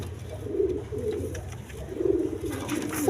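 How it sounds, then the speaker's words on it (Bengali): A pair of high-flying Giribaj pigeons coo in soft, repeated bursts, steady and moderately close, with low rumbling background noise and no voices. "এখানে এক পেয়ার হাই ফ্লাইং গিরিবাজ কবুতর আছে"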